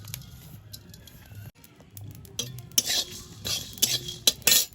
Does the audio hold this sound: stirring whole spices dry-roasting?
yes